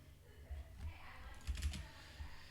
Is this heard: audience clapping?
no